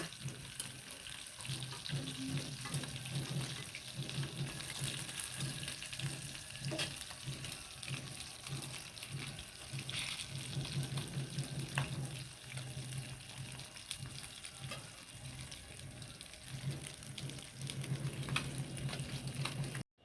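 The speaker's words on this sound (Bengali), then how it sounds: "লাল মরিচগুলো কিন্তু খুব সুন্দরভাবে ভাজা ভাজা করে নেব" Koi fish and whole red chillies frying in oil, a continuous close sizzle and crackle with rhythmic stirring scrapes running under it for the whole stretch.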